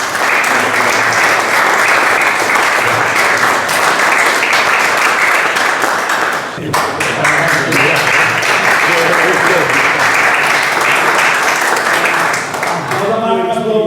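An assembly audience of the Amics del Seminari applauds in sustained, dense clapping that fills the room for over ten seconds, with a brief dip midway and voices audible beneath it.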